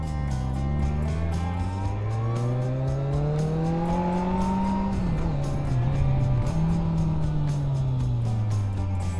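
A Kawasaki GTR 1400 motorcycle rides through hairpin bends in Slovenia, its engine droning steadily and rising in pitch under acceleration before easing and climbing again, loud and continuous with wind rushing behind it.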